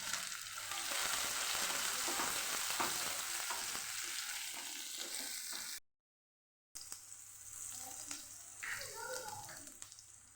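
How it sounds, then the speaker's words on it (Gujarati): Onions sautéing in a pan with garlic for Kathiyawadi besan bhurji, a steady close sizzle and frying hiss with stirring, a brief gap, then quieter sizzling. "અહીંયા ડુંગળી ઉમેરી દેવાની ડુંગળીને સરસ આપણે સાતરી દેવાની"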